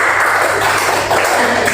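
A classroom of students applauds a classmate after her question during a teaching lesson, a steady, dense wash of clapping that holds at an even level for the whole short stretch.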